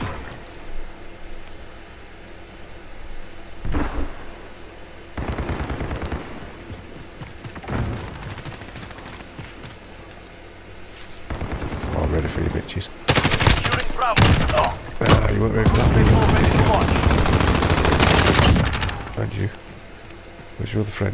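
Gunfire in Call of Duty Modern Warfare hardcore Domination: bursts of automatic fire and single shots, some loud and close, with someone talking between them.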